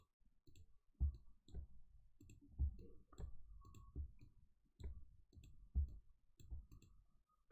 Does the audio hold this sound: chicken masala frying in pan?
no